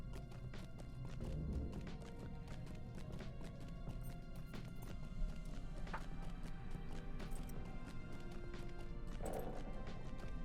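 Hooves of a goat mount clatter in a fast, steady clip-clop while riding in The Lord of the Rings Online, close and continuous over a low game ambience with an occasional heavier thud.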